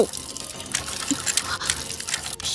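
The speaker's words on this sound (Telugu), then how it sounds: "నువ్వు ఫోన్ చేసినప్పటి నుంచి ఆ ట్యాప్ కారుతూనే ఉంది" Running water from a leaking tap in a house, a steady trickling and splashing with faint broadband hiss throughout, fairly quiet and close, no talk.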